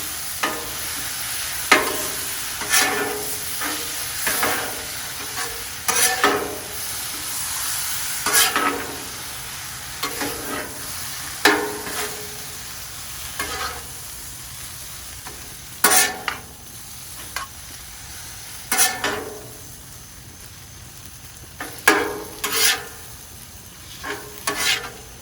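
Scallop mixture is stirred and fried on a Blackstone griddle, a low steady sizzle broken by repeated scraping spatula strokes every second or two, close and fairly quiet.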